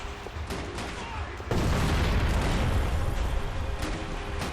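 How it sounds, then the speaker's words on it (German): A grenade launcher round explodes in the video game Max Payne 3: a loud, sustained blast roars up halfway through and rumbles on with crackling debris, over a steady background of game noise. "Explosion!"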